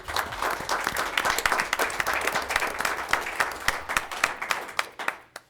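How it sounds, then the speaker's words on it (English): Applause fills a school board meeting room as attendees clap for a district staff member. It is a moderately sized crowd clapping steadily for several seconds before thinning out toward the end. "can we please give him a round of applause for all his hard work?"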